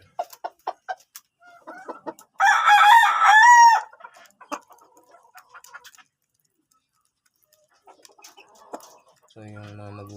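A seven-month-old Sweater Boston rooster crows loudly and close by in one long call, with bursts of clucking from other chickens before it and a low, buzzing cluck near the end, set in a small backyard poultry pen.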